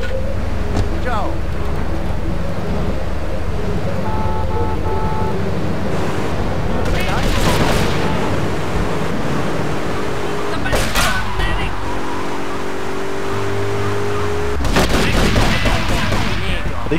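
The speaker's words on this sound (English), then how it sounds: "Are they shooting at me?" Gunfire from a GTA III mission bursts out in several sharp volleys over constant vehicle and street noise, with radio-style voices and talk throughout.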